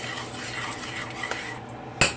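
Thick sour cream sauce being stirred in a pot, a steady scraping, clinking run of utensil against cookware, close up, with a sharper knock near the end.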